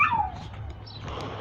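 A dog whimpers and yips in short, high whines outdoors on a morning walk after spotting another dog, the cries close and fairly loud at first, then fading into quieter whining over low background rumble.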